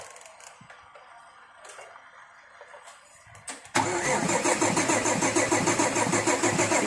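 After a quiet stretch, a car under repair for a suspected air bubble in the fuel line suddenly fires up, then settles into a loud, steady, ticking idle close by.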